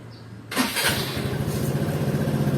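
An Easyride 150 FI motorcycle engine cranks and catches after a short silence, then settles into a steady, loud idle close by.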